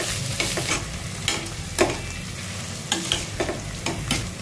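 Potato bhaji being stirred in a frying pan, with scraping spoon strokes at irregular intervals over a steady close sizzle; no talking.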